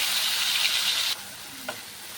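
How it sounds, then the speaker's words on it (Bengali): Ginger, garlic, onion and cashew paste sizzles loudly in a frying pan for a shrimp curry, a strong hiss for about a second that then drops to a quieter simmer with a brief clink. "আমি যে পেস্ট বানিয়েছিলাম আদা রসুন পেঁয়াজ আর কাজু, ওই পেস্ট আমি দিয়ে দিলাম।"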